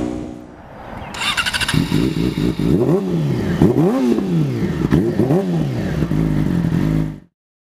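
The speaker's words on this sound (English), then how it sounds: "we'll put in a sound clip right now of uh, the, the bike revving" A motorcycle engine revs repeatedly, each throttle blip rising and falling in a rhythmic series, loud and close, with no one speaking.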